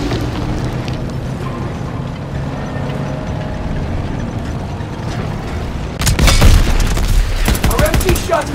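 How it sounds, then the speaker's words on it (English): Machine gun fire in Call of Duty: WW2, heavy rattling bursts and booming impacts over a constant battle din, with a louder crackling barrage near the end. "Our MG shots just bounce off!"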